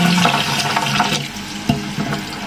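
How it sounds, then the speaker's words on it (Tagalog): Cashew nuts being rinsed under running tap water, with a steady splashing, trickling stream close by and brief sloshing bursts as the nuts are handled. "At ito ang cashew na naman guys. Hugasan din natin."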